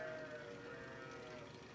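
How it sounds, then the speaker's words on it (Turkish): Sheep on a Turkish village farm with new lambs, bleating faintly and steadily in the distance, a quiet, drawn-out call with low background noise. "Şu koyunlara bir bakayım, bağırıp duruyorlar."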